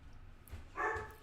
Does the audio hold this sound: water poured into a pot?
no